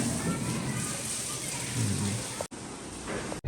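Water sprayed for curing on a small house under construction, a steady broadband hiss and splatter running continuously at moderate level with brief dropouts near the end; voices talk faintly in the background.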